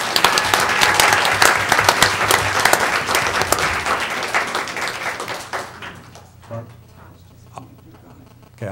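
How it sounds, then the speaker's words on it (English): An audience at a board of education meeting breaks into loud, close applause that thins out and fades over several seconds. "A round of applause for Bryant Johnson."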